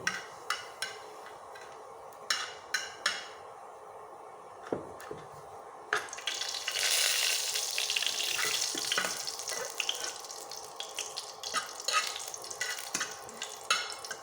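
White cumin seeds frying in hot oil for a radish dish, quiet crackling and a few sharp clicks at first, then a louder hissing sizzle that carries on steadily, close by, no talking.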